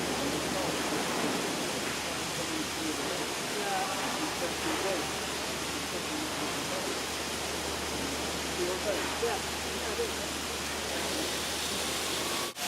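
A steady rushing roar of water pouring into a ship lock at the Three Gorges Dam, China, continuous and broad, with faint voices murmuring underneath.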